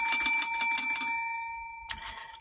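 A bicycle-style bell rung six times in quick succession, each strike decaying with a bright metallic ring, followed by a pause and one final single ring, close and alone.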